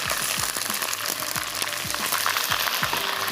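Ginger garlic paste and tomato paste fry in a pan with a continuous close sizzle, punctuated by regular scraping stirs of a spoon, with no talking.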